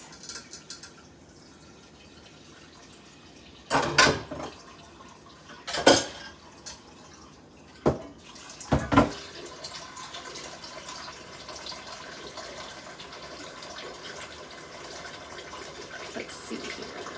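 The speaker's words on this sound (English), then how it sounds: "let me get some water for the" Running water from a kitchen tap with a few sharp clattering knocks of dishes early on, then a steady, moderate stream continuing to the end, filling water for corn on the cob; no talking.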